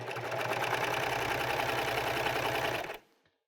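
A serger sewing a 3-thread flatlock stitch on fabric strips, a close, steady mechanical whirring and rapid clatter for about three seconds before it stops abruptly.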